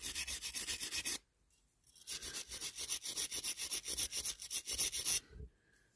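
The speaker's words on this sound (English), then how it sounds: "I'll go round with a file and sort out any bits out what need filing" A metal file rasps back and forth over a diecast Dinky Toys Alvis sports tourer model, fast regular strokes close up, stopping briefly after about a second before another long run of steady scraping strokes.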